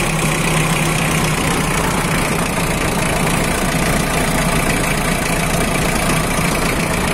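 A 2000 Mitsubishi L300 pickup engine idles loud and close, a steady rough diesel-like rumble with a faint knocking texture running unbroken throughout, with no voices.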